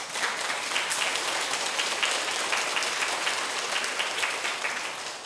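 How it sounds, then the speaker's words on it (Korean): A church lecture audience claps together in sustained applause, a dense, steady patter of many hands that holds for several seconds before slightly tapering, with no voices over it. "가끔 박수 쳐주는 것도 좋아요."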